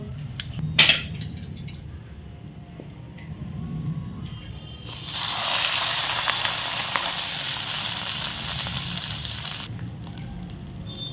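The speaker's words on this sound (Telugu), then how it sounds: "పచ్చళ్ళలో వేసేసుకుందామండి తాలింపు." Tempering of hot oil and spices poured onto tomato and amaranth-leaf pickle in a stone mortar sets off a loud, steady broadband sizzle that runs for several seconds after a few soft clinks, then eases off.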